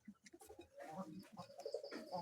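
Several domestic pigeons, including a white Peshawari, coo in soft rounded pulses at close range, with overlapping low calls building into a steady murmuring chorus.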